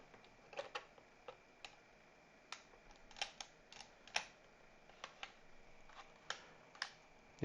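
Clicky mechanism of a 3D printed vault being turned, sounding as a string of sharp, quiet plastic clicks at irregular intervals, some in quick pairs, with no one talking.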